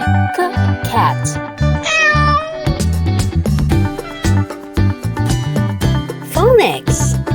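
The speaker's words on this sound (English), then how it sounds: "C is for cat." A cat meows in a children's phonics lesson, with short rising and falling mews over bright background music, near and clear.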